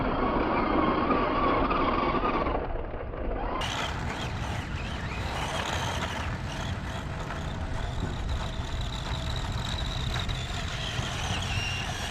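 A Tamiya Sand Scorcher RC car fitted with a gyro drives and slides on a dry surface, giving a steady buzzing motor whine with scrabbling tyre noise that runs continuously and close throughout.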